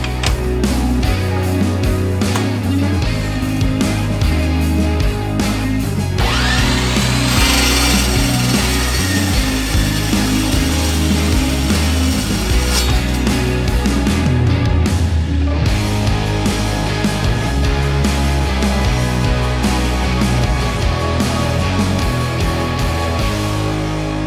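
A power saw grinds steadily through steel pieces for a welded porch railing, a loud continuous cutting drone close by that runs the whole stretch, with its pitch shifting partway through as the blade bites.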